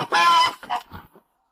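A goose gives a loud, harsh honk up close, followed by two or three shorter, quieter calls before falling silent.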